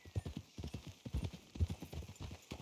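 Horse hooves clip-clop in a steady walking rhythm on a road in the video game Red Dead Redemption 2, fairly close and distinct, with a faint snort or whinny in the mix.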